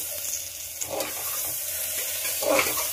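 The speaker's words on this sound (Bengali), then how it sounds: "টমেটো গলা অবধি কষিয়ে নিতে হবে একটু।" Two medium chopped tomatoes frying with reddish-fried onions and a little salt in a pan, giving a steady close sizzle with occasional stirring scrapes and a louder burst near the end.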